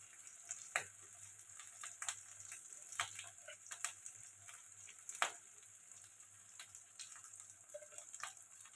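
Ginger, garlic, turmeric and spices frying in oil for a chicken and potato curry, a steady soft sizzle with faint stirring clicks and scrapes, fairly quiet and with no talking.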